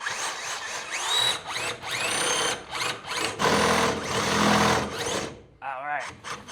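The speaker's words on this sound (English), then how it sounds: "I'm gonna drill a hole." A hand auger-style drill bit bores a hole through wood for home network cabling, whining in several loud bursts with short pauses between, then a brief ratcheting rattle at the end.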